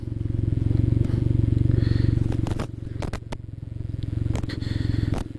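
A Can-Am Ryker three-wheel motorcycle idles as it pulls in to park, a steady close throbbing engine burble with a few sharp clicks and clunks partway through and a slight dip in revs.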